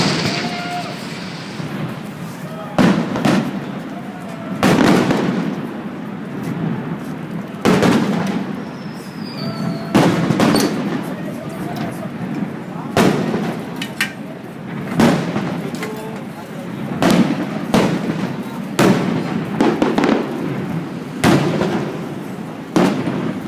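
Fireworks display over Niagara Falls, Ontario, with repeated loud booming bursts and crackles at irregular intervals, echoing against steady crowd murmur and background roar, with occasional talk nearby.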